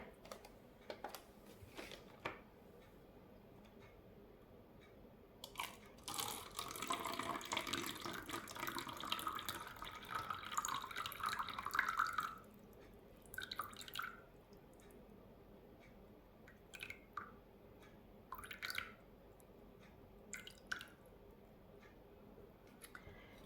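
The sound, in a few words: water being poured and measured for eco casting resin mold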